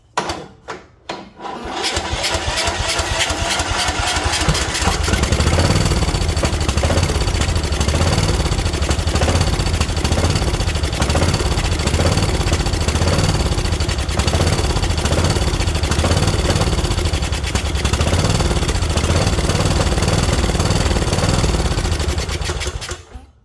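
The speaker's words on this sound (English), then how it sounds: "Now let's see if it'll start with a choke." A Kohler Courage engine on a Craftsman riding mower, choked, cranks briefly and then fires up, running loud and steady close by for about twenty seconds before cutting off.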